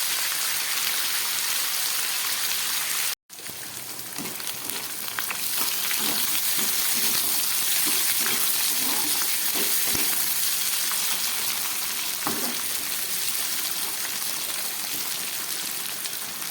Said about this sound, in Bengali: টমেটোটাকে খুব ভালোভাবে আমি ভেজে নেব